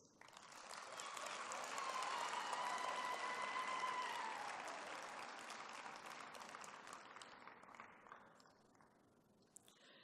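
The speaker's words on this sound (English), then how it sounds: "I would now like to invite our graduates to applaud their families, friends, spouses, supervisors who have supported them over the years." Graduates applauding at a spring graduation ceremony of veterinary and health sciences, a large crowd's clapping that swells, holds loudly for a few seconds, then gradually fades out, with a faint reverberant hall tone.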